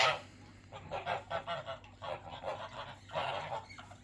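Several geese honk nearby in a run of loud, nasal calls, bursts overlapping and pausing briefly before another volley.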